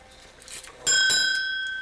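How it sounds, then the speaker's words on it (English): A bell is struck once and rings out with a bright, sustained metallic tone that slowly fades, after a softer stretch of faint background noise. "Yes, ring the bell now."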